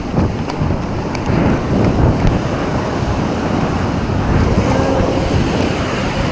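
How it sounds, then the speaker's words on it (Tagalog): Heavy ocean surf of big waves roars continuously on a beach with strong wind buffeting the microphone, a dense, loud wash of crashing waves throughout. "Yung balod, ang lalaki ng alon."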